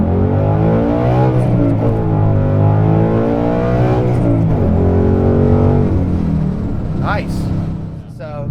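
A modified 2018 GT track car with a track exhaust idles and revs up loud and near in a deep, rising and falling roar that trails off toward the end.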